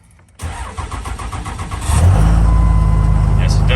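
A diesel engine cranks over briefly in the cold, catches and settles into a loud, steady high idle with a rough clatter, heard close up with a voice talking over it.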